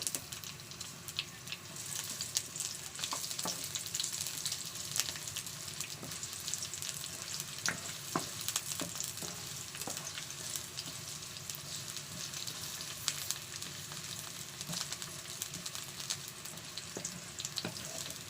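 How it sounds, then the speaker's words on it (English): Onions sauté in a pan for a smoked fish recipe, giving a steady, moderately loud frying hiss with frequent crackles and pops that runs unbroken throughout; no talking. "So saute the onions until it is transparent."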